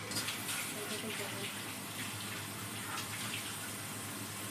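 Fish heads being rinsed in water, a steady running-water wash with sloshing and trickling, continuous and fairly faint, with a voice talking over it.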